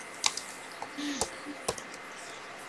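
Computer keyboard typed on in short, sparse bursts of sharp clicks, close and fairly clear against a quiet background, with gaps between the keystrokes.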